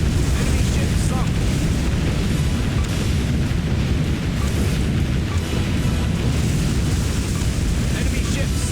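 Explosions of a sinking enemy ship in Warship Gunner 2, a continuous loud rumbling roar of blasts and burning that fills the whole stretch, with voices speaking over it.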